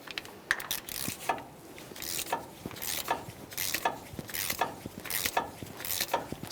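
A wrench ratcheting on an axle nut of a 2015-2020 Ford F-150 held by a pry bar during upper control arm work, with repeated rhythmic clicking bursts of metal mechanism, close and clear.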